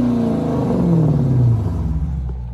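A Dodge Challenger R/T with the 5.7 V8 revs hard, its deep rumbling note rising and then falling away as the throttle eases, loud and close with no talking.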